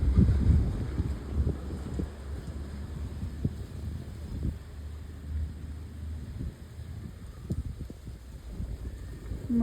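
Night wind in Kutch buffeting the microphone outdoors, a continuous low rumbling gusty roar with brief thumps, steady and close throughout.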